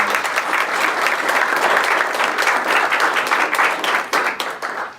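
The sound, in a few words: audience applause for Councilwoman Rachel Miller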